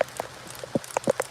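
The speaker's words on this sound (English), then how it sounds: "Let me get out here in the rain." Scattered raindrops tap on a surface outdoors in Miami, a few sharp, irregular drips close by with quiet gaps between them.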